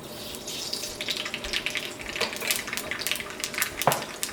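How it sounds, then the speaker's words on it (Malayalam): Mustard seeds spluttering in hot coconut oil, a dense stream of quick, sharp crackles and pops over a hissing background, close by. "ചൂടായ വെളിച്ചെണ്ണയിലേക്ക് 3/4 ടേബിൾ സ്പൂൺ കടുക് ഇട്ടിട്ട് പൊട്ടിക്കുക."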